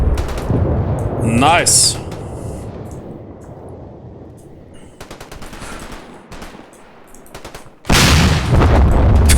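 Stuka air strike and battlefield gunfire in Combat Mission Red Thunder's Stalingrad campaign: roaring explosions and rumbling blasts with a diving whine, machine-gun bursts, and a loud final blast, with someone speaking briefly.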